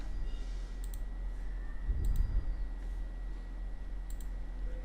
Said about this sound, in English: So just double click it to extract this zip file.